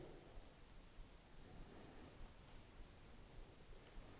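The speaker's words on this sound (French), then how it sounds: "quand c'est vachement calme, les grillons recommencent" Crickets chirp at night in a very quiet setting, short high-pitched trills repeating intermittently and faintly over a soft hiss of background noise.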